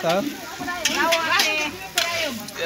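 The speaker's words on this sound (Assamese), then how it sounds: "দালি চব্জি ভাজি কৰি আছে এতিয়া" Dal and vegetables fry and get stirred in a pot by a cook preparing khichdi for a Janmashtami gathering at a namghar, a steady sizzle with occasional scrapes under a voice talking nearby.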